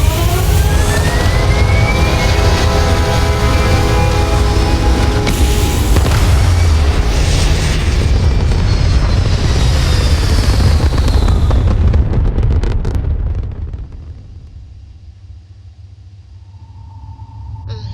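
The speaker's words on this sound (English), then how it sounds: "Thrusters firing." Spaceship thrusters fire in Starfield, a loud, deep, continuous roar with rumbling booms that holds for about thirteen seconds before fading to a quiet hum.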